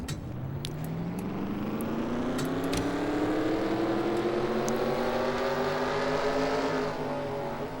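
Racing truck engines in a video game rev together in a steady droning roar, their pitch climbing smoothly as the pack of trucks accelerates, loud and continuous throughout.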